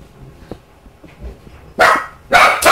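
A dog in the Minecraft video game barks in two loud, close bursts after a quiet stretch of faint background sounds.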